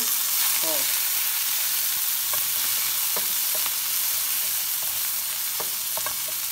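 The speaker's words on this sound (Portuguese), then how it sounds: "Eu vou dar uma torradinha no nosso camarão seco, ó." Dried shrimp toasting in sesame oil with browned garlic in a pan, a steady close hiss of frying with a few scattered utensil clicks and stirring taps.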